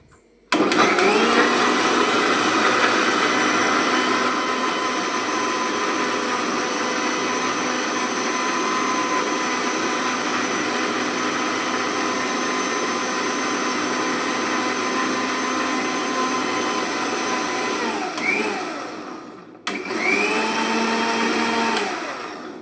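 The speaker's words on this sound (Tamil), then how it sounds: "நல்லா நைஸாக அரைக்கணும்." A mixer grinder grinds ingredients finely, a loud, close, continuous motor whine running for about eighteen seconds, briefly dipping and cutting out, then restarting for a short final burst.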